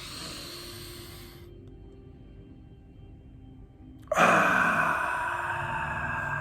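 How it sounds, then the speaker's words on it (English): A deep breath taken during a guided breathing exercise: a quiet airy stretch, a brief pause, then a loud rushing breath close to the microphone, with no talking. "let's take a nice deep breath together."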